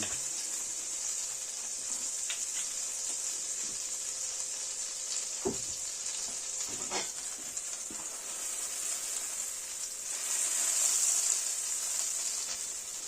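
Thick pieces of Atlantic cod fry in butter with a dash of oil, giving a steady close sizzle and hiss throughout, with a few faint clinks of utensils and a brief swell of crackling near the end.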